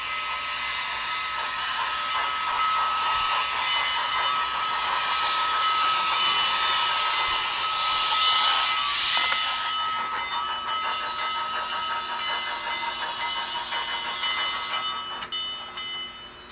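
A model Big Boy steam locomotive runs along its track, making a steady close whirring motor hum with fast rhythmic rail clicking that swells slightly midway and fades toward the end, with no voices.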